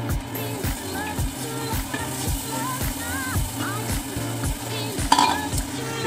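Onion fries in a pan for carbonara, with a loud, close sizzle under a rapid, regular rhythm of stirring and scraping strokes and faint background music.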